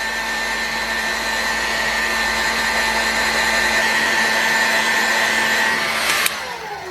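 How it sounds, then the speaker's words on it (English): A heat gun blows hot air steadily to warm a small part for bearing removal, a loud continuous whirring hiss with a fan tone that cuts off near the end. "hopefully I can heat this up without blowing it off my table"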